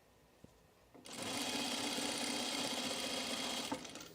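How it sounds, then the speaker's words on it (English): A sewing machine runs steadily for about three seconds, edge stitching along a shirt, with a close, even mechanical whir that starts and stops abruptly. "And we're just edge stitching this."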